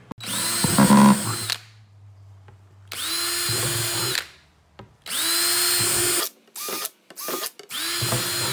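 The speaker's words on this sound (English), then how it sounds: "we're gonna drill some drainage holes in this puppy" A power drill boring drainage holes in a plastic bucket whirs in several bursts, revving up and cutting off, with short stuttering spurts near the end; no talking.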